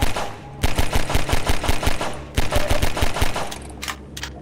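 Rapid bursts of gunfire from a weapon in the video game Half-Life 2, fired as fast as the button is clicked: loud, close shots in a quick, slightly uneven rhythm, two runs separated by a brief pause, ending in a few sparse shots.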